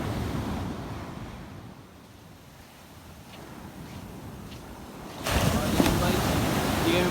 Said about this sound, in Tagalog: Hindi kami maliligo ngayon kasi napakalakas ng alon.